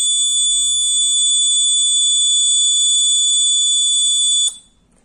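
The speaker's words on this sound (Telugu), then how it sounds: "ఈ బజర్ని అయితే ఆన్ చేసి సౌండ్ వినిపిస్తాను" An electronic buzzer switched on through an Arduino Uno over a Bluetooth module from a smartphone gives a loud, piercing continuous tone. It holds steady for about four and a half seconds, then cuts off abruptly, leaving near silence.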